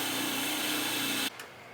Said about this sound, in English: hit it with a wire brush and clean it up.